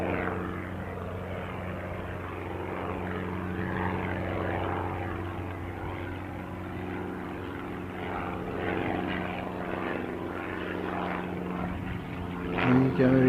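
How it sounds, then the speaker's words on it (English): A Douglas DC-3 propeller airliner passes at an airfield, a steady droning engine hum with strong low harmonic bands, moderately distant and fairly constant, rising slightly at the end. "Here's the DC-3. Bit of a surprise."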